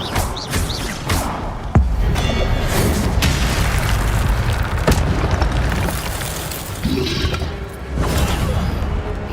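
Incendio fire spell blasts in Hogwarts Legacy, heard as loud, dense booming bursts of roaring, crackling flame with sharp cracks near the start and middle, sustained throughout.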